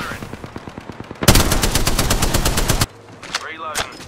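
Gunfire in the Apex Legends video game: rapid automatic bursts, first a quicker rattle, then a loud sustained stream of shots, then a few scattered reports after a pause.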